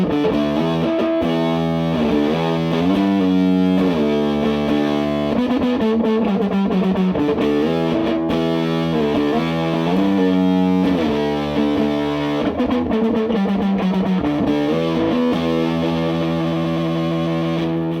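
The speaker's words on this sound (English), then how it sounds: "that was the Acorn Amplifier Epstein did or didn't kill himself fuzz pedal" Electric guitar played through an Acorn Amplifier Epstein fuzz pedal into a Hughes and Kettner amp, giving a thick, saturated fuzz tone on a heavy riff with sustained chords and sliding bends, loud and continuous throughout.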